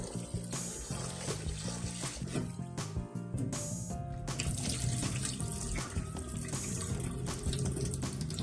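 Running tap water splashes and gurgles continuously while buckwheat groats are swished and rinsed in a container, close and fairly loud, with no talking.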